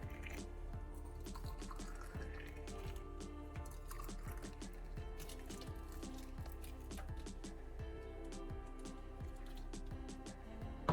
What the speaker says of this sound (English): I take 3 small glass jars and rinse them with boiling water at about 212 degrees Fahrenheit.